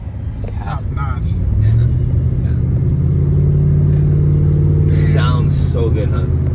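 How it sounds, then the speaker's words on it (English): A deep, steady engine rumble from a Ram 1500 Black Express Edition pickup truck's exhaust idles loudly throughout, with people talking over it. "the exhaust note is just so freaking perfect"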